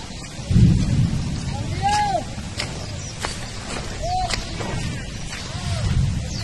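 Thunderstorm with rain over paddy fields where harvested grain lies soaked, heavy rainfall and low rumbles of thunder under a noisy broadcast background, with brief bird-like chirps and a steady wash of rain throughout.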